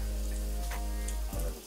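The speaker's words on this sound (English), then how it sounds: "I love that sound of the sizzle." Food sizzling in a pan on a stovetop, a steady close hiss and crackle with a faint clatter of a utensil, and no voices.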